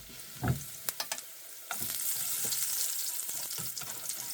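Garlic frying in a pan in a home kitchen, a steady close sizzle with scattered stirring clicks and scrapes, louder and denser in the second half.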